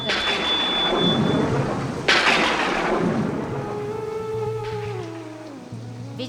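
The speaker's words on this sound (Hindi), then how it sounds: "इंद्र ने आदेश पाते ही जोर जोर से बिजली को कड़काना प्रारंभ कर दिया।" Loud thunder sound effect for a devotional story of Indra making lightning crack: a sharp crack, then a long rolling rumble with rain-like hiss, and low tonal swells toward the end, with no voice over it.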